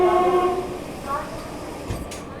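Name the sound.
Amrit Bharat Express train arriving at Dehri on Sone station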